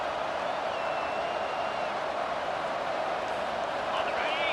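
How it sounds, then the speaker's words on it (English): A football stadium crowd at a Missouri versus Miami game roars in a steady, dense wash of noise that holds loud and unbroken throughout, with a commentator's voice over it. "This crowd, full throat, splitting the eardrums and letting them know it's going to be a long day."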